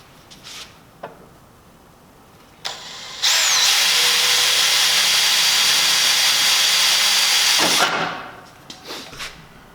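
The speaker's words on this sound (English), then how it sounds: "I'm going to drill a pilot hole." A power drill whirs at high speed for about four seconds, drilling a pilot hole through a stainless steel cavitation plate on a classic plywood boat, loud and steady, with a few light clicks and taps before and after.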